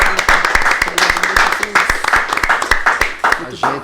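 Clapping breaks out at a church-style gathering in sharp, uneven bursts and stays loud and steady throughout, with voices calling out beneath and between the claps.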